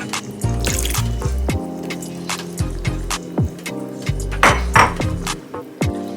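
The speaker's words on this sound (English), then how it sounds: "I'm just going to pour just a little bit of water in here, maybe about a 1/4 cup or so, just to loosen it up a little bit." Water poured into a pot of coconut curry sauce for salmon, with clinks of a pot and utensils and dripping mixed with low bubbling, close and moderately loud with no talk.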